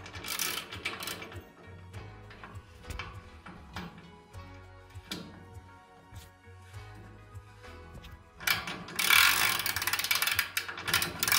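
Nut and washer being hand-tightened onto a bolt while assembling an Adidas multi-station home gym, giving soft ratcheting clicks and light metallic ticks close by, with a louder rustling burst near the end.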